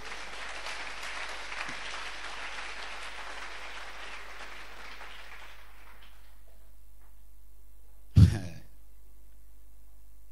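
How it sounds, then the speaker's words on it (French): A church congregation applauds, and the clapping fades out over several seconds. After a silence comes a single short throat-clearing sound. "acclamez leur sincérité"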